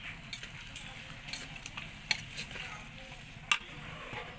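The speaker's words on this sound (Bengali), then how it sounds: "এটা এখন ততক্ষণ ভাজা হতে থাকে, এখনো ভাজা হচ্ছে, এখনো ভাজা হচ্ছে।" Beef with garam masala frying in a pot on a stove while being stirred, a faint steady sizzle broken by a few sharp scrapes and clicks of the spoon, with no voices.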